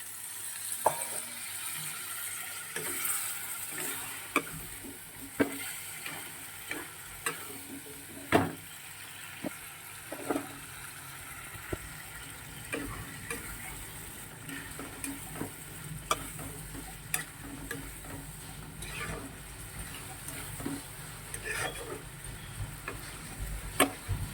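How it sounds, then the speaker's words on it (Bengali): Potatoes fried earlier are returned to a pan with a splash of water, giving a steady close sizzle throughout, with scattered sharp stirring clicks and scrapes of a utensil against the pan. "ভেজে রাখা আলু দিয়ে দিলাম, আবার একটু জল দিয়ে দিলাম।"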